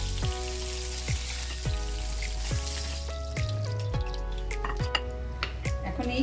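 Fish frying in hot oil, sizzling steadily in a pan with occasional clinks and stirring noises on top, a Bengali home cooking setting with green chilli nearby.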